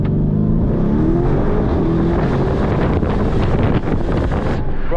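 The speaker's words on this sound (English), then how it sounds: "Let's see if I can launch it." A black Lamborghini Urus SUV launching hard under launch control, a loud, continuous engine roar rising in pitch with wind buffeting the microphone throughout and no talk.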